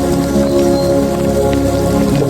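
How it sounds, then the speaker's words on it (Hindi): Loud, heavy rain pours steadily in the mountains of Allai Valley, a dense, constant hiss of drops pounding a surface. "ये काफ़ी बारिश है, तेज़ बारिश है।"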